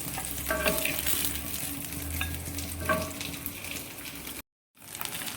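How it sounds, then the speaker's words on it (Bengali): Shrimp fry in hot oil, a continuous sizzle broken by a few clinks and scrapes as pieces are lifted out. It cuts off briefly near the end, then resumes. No speech. "চিংড়ি মাছগুলো ভাজা হয়ে গেছে আমি এখন তুলে ফেলছি"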